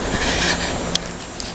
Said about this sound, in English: Oh, now is train, subway is coming.